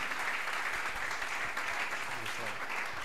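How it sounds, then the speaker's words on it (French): A congregation at a church service applauds and cheers for a woman, a steady, loud wash of clapping that fills the room without letup. "est-ce qu'on peut acclamer pour cette femme?"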